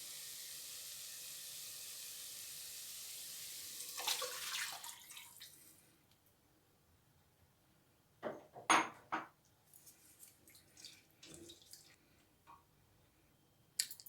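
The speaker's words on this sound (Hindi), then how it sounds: "अब इसमें पानी डालेंगे।" Water pours into a soup pot of fried vegetables for chicken soup, a steady hissing stream for about five seconds that then stops, followed by scattered clinks, splashes and drips.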